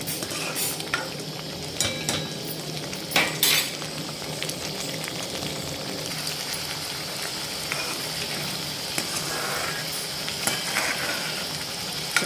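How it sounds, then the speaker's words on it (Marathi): A spoon stirs a masala mixture frying in a pan for misal, with a steady sizzle underneath and a few sharp scrapes and clinks of utensil against metal. "अधूनमधून असं ढवळत राहायचं आहे, म्हणजे खाली लागणार नाही मसाला आपला."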